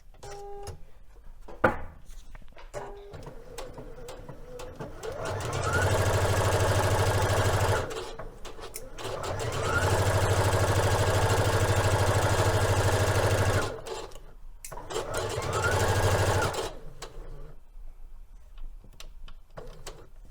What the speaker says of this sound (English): only back stitching at the beginning, following our dart line and sewing right off